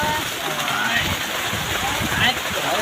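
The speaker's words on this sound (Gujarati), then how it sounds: "તો પાણી એટલું આવે છે ને સાટા તો એટલા ઉડે" Water gushes hard into a small tank, making a continuous, close splashing roar with no breaks over the short span. A voice can be heard under it.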